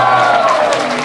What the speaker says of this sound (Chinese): 各位观众，掌声欢迎铁牛。